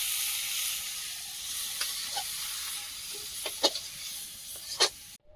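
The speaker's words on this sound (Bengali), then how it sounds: "চিংড়ি মাছটা ঢেলে নেব" Prawns cooking in a hot pan, a steady bright sizzle throughout with a few soft stirring taps and clinks toward the end before it cuts off abruptly.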